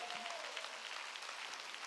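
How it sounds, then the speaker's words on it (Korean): Church congregation clapping during a sermon, a dense, even wash of applause at moderate distance with no break. "박수치며 하나님께 영광."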